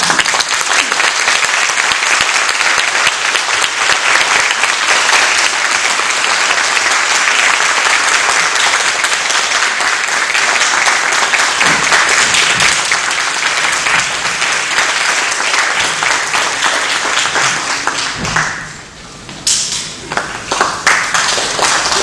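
A lecture hall audience at Seoul National University gives UN Secretary-General Ban Ki-moon a loud, dense ovation of many hands clapping. It runs on for about twenty seconds, thins briefly near the end, then picks up again in scattered claps.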